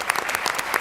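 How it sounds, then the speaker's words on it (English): A brief burst of audience applause greets a finalist at a youth entrepreneurship competition, dense clapping lasting under a second. "a round of applause"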